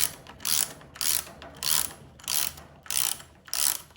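A Milwaukee insulated 4-in-1 lineman's ratcheting box wrench turns a nut, giving seven or so rapid, bright ratcheting bursts in an even back-and-forth rhythm, close and crisp with no speech.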